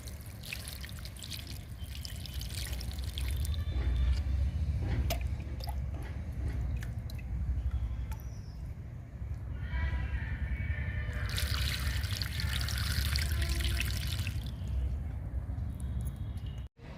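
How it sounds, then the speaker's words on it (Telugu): Water poured onto soil in a plant pot gives soft trickling and splashing in a few bursts, close by and fairly quiet, with brief pauses between pours. "వాటర్ పోస్తున్నాను."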